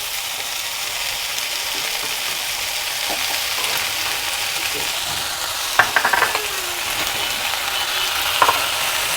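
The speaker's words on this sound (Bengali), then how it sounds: "এগুলোকেও আমি হালকা লাল লাল করে ভেজে নেব" Vegetables fry in a pan with a steady, moderate sizzle close by, broken by a few brief clinks and scrapes of a utensil stirring, no one talking.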